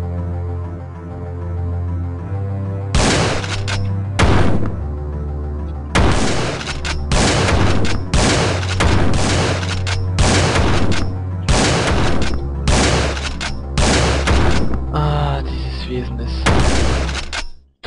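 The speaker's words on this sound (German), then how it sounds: "Der Pumpgun ist ja leicht gewesen." Pump shotgun blasts in the video game Calm Falls, about a dozen loud, close shots fired in irregular bursts over a low droning game soundtrack.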